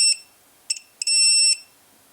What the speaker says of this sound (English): it'll beep saying, oh wait, that's too low